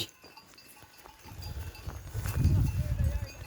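A livestock herd of goats and sheep is driven toward a clover pasture on a highland plateau, with bleats and shuffling hooves that build into a louder, busier rush of animals near the end.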